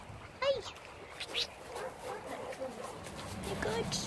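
A dog gives a few short whimpers and yips close by, with people's voices around it.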